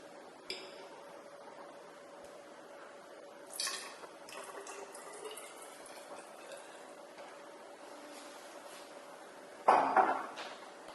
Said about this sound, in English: Next, we add our sodium hydroxide or unknown concentration of sodium hydroxide to our conical flask.